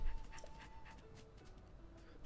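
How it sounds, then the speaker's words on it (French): Dogs in Zelda Tears of the Kingdom pant rapidly and let out brief thin whimpers, close and fairly soft, with a few sharper high clicks scattered through. "Ça, c'est des bons toutous."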